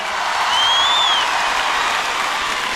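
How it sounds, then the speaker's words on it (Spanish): Steady, dense applause from a large concert crowd at the Viña del Mar festival, loud and sustained throughout with a faint whistle rising above the clapping. "Quiero pedirles que el primer aplauso de esta noche se lo regalen a los chicos de la orquesta"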